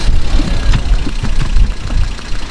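A car engine idles nearby with a low, steady rumble and slight irregular knocking pulses, loud and close.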